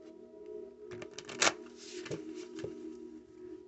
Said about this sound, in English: Let's get another oracle from this deck. I'm gonna shuffle it up real good.